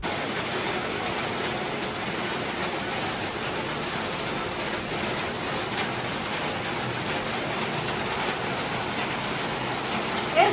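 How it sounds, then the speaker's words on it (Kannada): Morning rain falls steadily in Udupi, making an even, continuous hiss of drops on surfaces at moderate distance, with no speech over it. "ನೆಕ್ಸ್ಟ್ ಡೇ ಮಾರ್ನಿಂಗ್ ಸ್ವಲ್ಪ ಒಳ್ಳೆ ಮಳೆ ಬಂದಿತ್ತು, ತುಂಬ ಚೆನ್ನಾಗಿತ್ತು"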